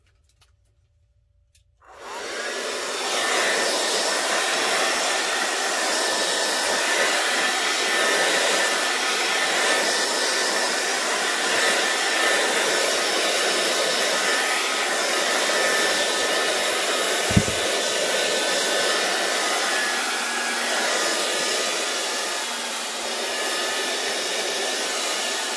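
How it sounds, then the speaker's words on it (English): A hair dryer blows steadily over a mixed media art journal page, a loud, even whoosh that starts after a short silence and runs unbroken to the end, with no talking. "let's get our blow dryer out again, or your heat gun, whichever one you want to do. And let's blow dry this again"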